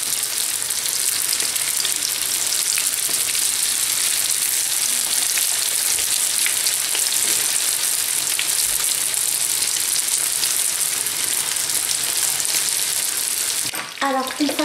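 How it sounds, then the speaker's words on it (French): Chinese rolls frying in a lightly filled pan, a loud, dense, steady sizzle with fine crackling held close for the whole stretch, ending with a brief voice right at the end. "j'ai favorisé de les cuire dans une poêle pas très remplie pour maîtriser la cuisson"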